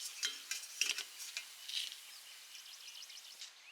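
Herbs and ingredients frying in hot oil for a homemade hair growth oil make a faint, crackling sizzle, with several light stirring clinks and scrapes of a spoon against the pot.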